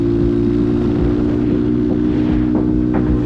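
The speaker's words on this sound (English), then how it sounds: "This bike is really quite loud, to be honest." A cheap Amazon 250cc motorcycle engine runs loudly and close up, a steady, droning hum with a low rumble and no change in pace.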